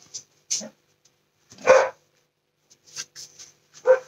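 A dog gives several short, sharp barks and yips at irregular intervals, close by, with quiet gaps between them.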